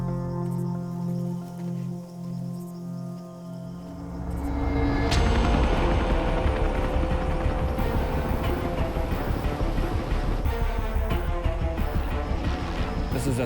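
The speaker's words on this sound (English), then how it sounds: "This is a third chopper coming in as these guys have run." A police helicopter flies in over a rhino poaching scene, its loud, dense rotor roar building abruptly after a quieter musical opening and then holding steady and close for the rest of the stretch.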